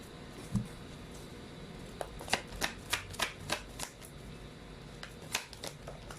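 Tarot cards riffled and flipped in a quick series of crisp, close snaps and flutters, a burst of shuffling followed by a few lighter card slaps, with no talking.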